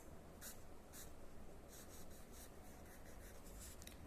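A pencil sketches a figure by hand on paper, making faint, close scratching strokes in short repeated bursts over a quiet background.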